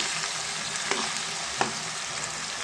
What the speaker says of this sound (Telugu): ఇది కూడా కొంచెం పచ్చివాసన పోయేదాకా ఫ్రై చేసుకున్నామండి